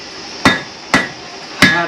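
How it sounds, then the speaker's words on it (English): A blacksmith hammers metal flat on an anvil at a historical village demonstration, three loud, sharp ringing strikes spaced about half a second apart, each followed by a short metallic decay. "Hammering down hard, really hard."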